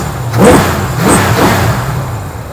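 A 1968 GMC V8 truck engine idles with a low rumble, then revs up twice in quick bursts before settling back down, loud and close.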